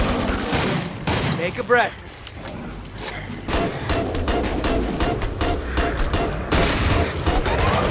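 Sustained gunfire in Killing Floor 2, loud overlapping volleys and rapid shots that continue throughout, with several voices shouting over the shooting.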